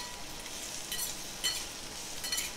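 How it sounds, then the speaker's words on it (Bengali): Potatoes frying in a pan with salt, turmeric and spice powders make a soft, fairly faint sizzle with a few brief, brighter bursts as they are stirred. "তো এবার ভালো করে কষিয়ে নেব"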